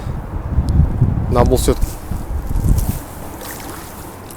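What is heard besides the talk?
strong wind over a frozen lake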